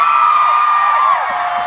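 A crowd cheers and whoops loudly at an outdoor ballpark show, with high children's shouts rising together and fading slightly toward the end.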